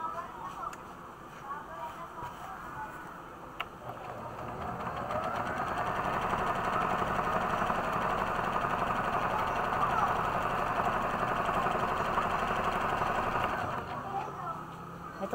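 Portable sewing machine running a stretch stitch, a steady fast mechanical whir that grows louder and holds through most of the stretch, running alone.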